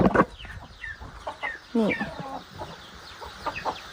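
Backyard chickens clucking close by in a short burst of irregular calls, with a voice speaking briefly among them.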